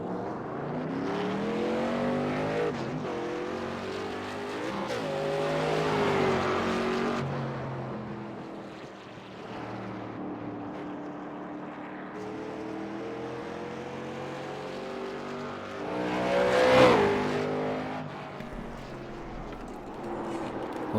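Race car engine from a sim racing game on a Stafford oval track, a sustained engine note that rises and falls as the car laps, with a louder surge as it passes close, heard alone without talk.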